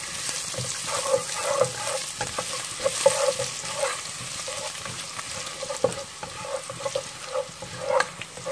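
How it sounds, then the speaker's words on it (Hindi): Garlic fries in hot oil with cumin and fenugreek seeds, a steady close sizzle with intermittent stirring scrapes and small pops throughout. "ये डालने के बाद हम इसमें लहसुन डालेंगे,"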